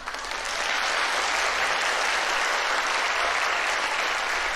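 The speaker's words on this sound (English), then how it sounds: "the chapel was swept up in a huge round of applause echoed off the high walls" Huge round of applause from an audience filling a chapel with high walls, a dense, sustained wash of clapping that swells in quickly and holds steady, reverberant and moderately loud.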